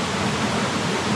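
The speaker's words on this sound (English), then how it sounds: "This is the 60 or so high meter waterfall at the bottom of Lady Norfolk Canyon." Roughly sixty-metre waterfall at the bottom of Lady Norfolk Canyon, a dense, steady, full-spectrum roar of falling water, loud and unbroken with no voices.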